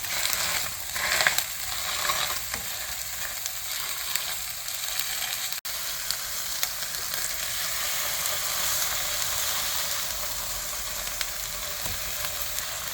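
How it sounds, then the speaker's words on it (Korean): Seasoned eel frying on a camping grill over lowered heat, a steady close sizzle and crackle throughout with one brief tap midway. "일단은 초벌만 한번 구울 거예요."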